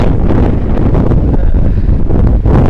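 Strong wind blows hard across the microphone at an outdoor campsite, a dense steady rumble with gusty surges throughout, loud and close with no voices.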